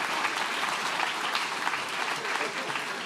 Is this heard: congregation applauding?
yes